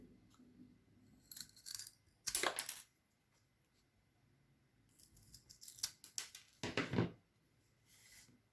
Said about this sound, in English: I'm going to take my popsicle stick and mark it and cut it